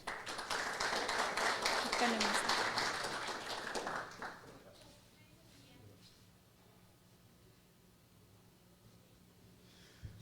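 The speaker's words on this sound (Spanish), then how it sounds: "Recibamos con un aplauso, por favor, al economista Salas" An audience at a public investment forum applauds to welcome a speaker, with dense clapping for about four seconds that then fades into quiet room noise and faint movement.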